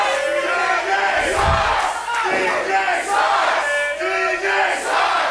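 A large wrestling crowd in South River jeers and shouts at wrestler TJ Blade during an indie show, a steady, loud roar of voices with rising swells of booing throughout.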